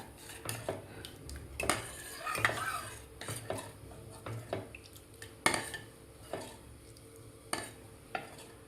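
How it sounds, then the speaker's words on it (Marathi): A spoon stirs lentils and water in a pressure cooker on a gas stove, making repeated metallic scrapes and clinks against the pot over a soft sizzle, close and without talking. "पाणी घातल्यानंतर व्यवस्थित आपल्याला हलवून घ्यायचं आहे याला."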